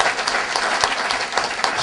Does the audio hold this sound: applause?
yes